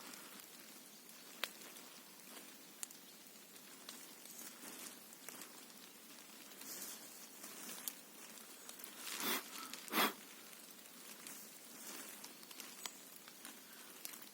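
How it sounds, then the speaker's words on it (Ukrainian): Rainwater drips softly from the trees in a still, windless forest just after a summer rain, with scattered faint patters and a few slightly louder drops near the end against a quiet background. "І з дерев капає в лісі тихо-тихо"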